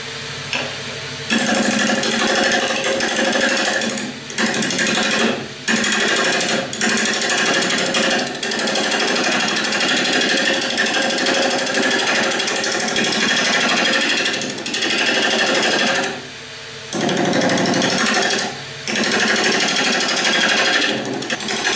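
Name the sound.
roughing gouge turning wood on a lathe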